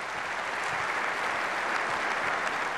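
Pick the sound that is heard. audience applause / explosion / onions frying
audience applause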